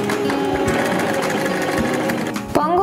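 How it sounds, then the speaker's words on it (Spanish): A Janome 523H sewing machine runs with the pedal pressed, its steady, close needle chatter going continuously before a brief clunk and change near the end, no talk over it. "Voy a apretar el pedal para realizar puntadas que lo aseguren."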